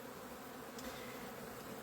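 A small, weak beehive with hardly any bees gives off a faint, continuous buzzing hum, quiet and steady throughout with no talk.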